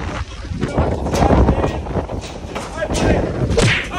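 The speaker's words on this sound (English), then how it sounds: "wind speeds were only about 35 miles an hour with gusts of up to 55 miles an hour" Strong hurricane wind gusts during Hurricane Helene, a loud, continuous roar buffeting the microphone with thuds and rattles swelling and easing over several seconds.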